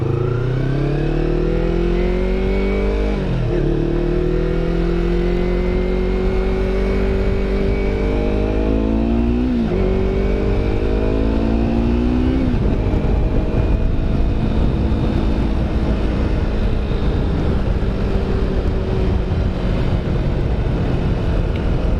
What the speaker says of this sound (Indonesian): Kok suaranya menggelegar gitu? Oh, motor Supra bawa barang.